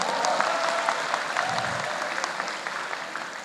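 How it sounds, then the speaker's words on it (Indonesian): Applause from an audience at an Indonesian political talk event, dense clapping that begins full and gradually thins and fades, with no one speaking over it. "Tepuk tangan untuk netizen Indonesia."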